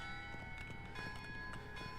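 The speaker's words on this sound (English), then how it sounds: "These bloody bells." Church bells ring in the Shadows Over Loathing video game, a steady series of sustained metallic tones with repeated strikes layered over a low background hum, moderately loud and continuous.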